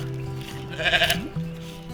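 A sheep bleats once, a loud wavering cry standing out over a steady low hum and background noise, during a float trip on a river.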